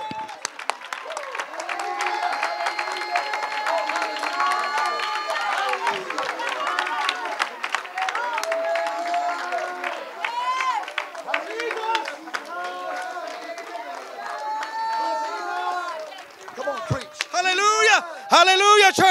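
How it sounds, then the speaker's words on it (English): A church congregation claps and cheers in praise during a worship service, producing sustained, dense applause that swells near the end while a preacher's voice carries over it. "Oh, clap your hands one more time unto the Lord."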